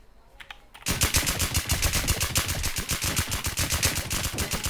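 Rapid automatic gunfire in a Thai-played online shooter game, HyperZ, starts after a short quiet moment and continues as a dense, loud, unbroken burst of shots until the end.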